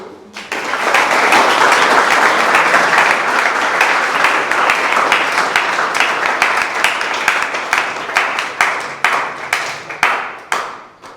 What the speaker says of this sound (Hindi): सभी लोग तालियां बजाकर उनका स्वागत करिए